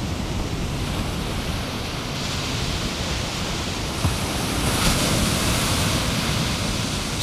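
Ocean waves pound a beach along grassy dunes, a steady roaring wash of surf with a slight swell midway, broad and continuous with no voices.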